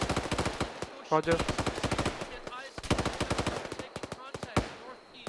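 Video game battle with loud, near automatic gunfire in dense rapid bursts that keep up almost without pause, mixed with single shots. Voices talk over the shooting.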